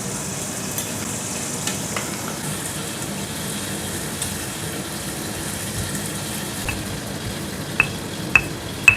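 Onions frying in oil in a pan, seasoned with salt and MSG, giving a continuous close sizzle with occasional scraping clicks from stirring.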